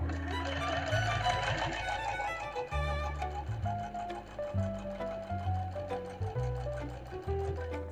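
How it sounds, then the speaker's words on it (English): A sewing machine stitches triangles of ice cream bunting, its motor whirring in short uneven runs with brief stops between them, close and clear with a high mechanical hum throughout. "That's all my triangles sewn in."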